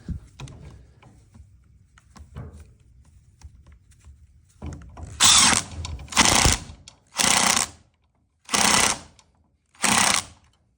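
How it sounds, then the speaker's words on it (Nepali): A power drill whirs in five short, loud bursts with brief pauses between them, after some quieter handling and clicking noises. "यसलाई म यहाँ लाएर त्यो पुनः ड्रिल गर्दैछु"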